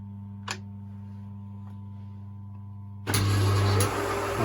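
Lathe saddle power feed running in reverse on a Smart & Brown lathe: a steady low mechanical hum with faint ticks, then a louder whirring motor drone kicking in near the end.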